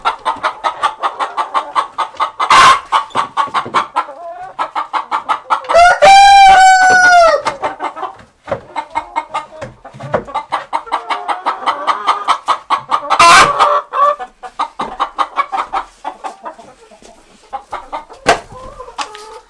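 Near a roll-away nesting box, a hen clucks in rapid, insistent bursts, loud and close, with one long drawn-out cackling cry in the middle and a few sharp knocks in between.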